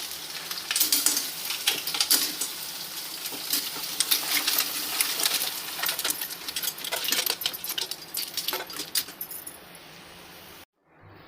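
Clams cook in a pan with spice tempering, giving a steady, close sizzle laced with metallic clinks and scraping of shells, and no talking, before breaking off abruptly near the end.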